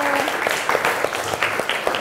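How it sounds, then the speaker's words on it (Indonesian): Audience applause at a parliamentary class session, a short stretch of brisk clapping from a group of people with a voice audible under it. "Ya, beri tepuk tangan untuk Bapak Wilgo"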